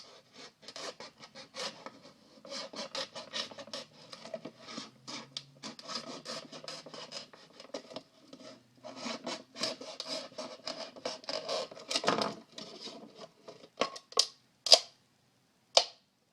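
A knife cuts a groove around a capped plastic jug, giving close, continuous rasping and scraping strokes in quick, uneven bursts, with a few sharper scrapes near the end and no talking.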